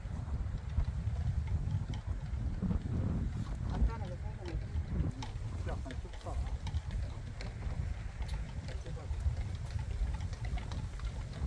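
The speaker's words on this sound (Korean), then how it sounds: "바람 불어." Wind gusting steadily outdoors at a rural vegetable garden where summer lettuce is grown under shade netting, a continuous low rumble of buffeting across the whole stretch, with people talking over it.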